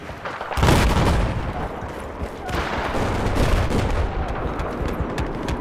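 An MG32 machine gun firing in the Battlefield 4 video game on a large conquest map, heavy booming gunfire over dense continuous battle noise, loud and without speech.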